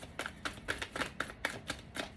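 Tarot cards being shuffled close up, a quiet run of crisp, evenly spaced riffling snaps repeating about every quarter second, with no voices.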